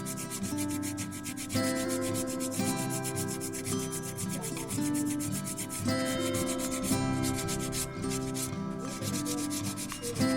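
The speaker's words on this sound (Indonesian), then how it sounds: "Gosok pada setiap bagian sampai merata." Steady back-and-forth rasping of 100-grit sandpaper rubbed against hard resin, close and rhythmic, continuing throughout without speech.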